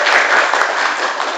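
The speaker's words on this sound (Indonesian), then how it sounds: "sekali lagi tepuk tangan dulu buat kelompok" A classroom group claps for a student team after their presentation, a brief burst of quick, loud, close clapping with no talk over it.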